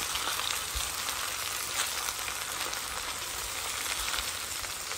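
Garlic, ginger and spices sizzle in a hot pan, a steady close crackle with scattered pops and no pauses.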